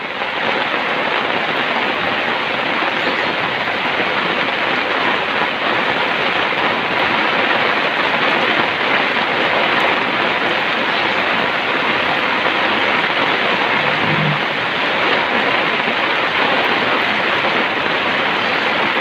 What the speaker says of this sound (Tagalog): Walang humpay ang ulan, no?